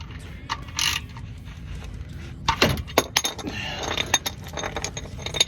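A plastic oil drain pan slid into place under a 2016 Honda HR-V during an oil change, heard as scraping, clunks and clinks of the pan and tools in a cramped space, close and irregular.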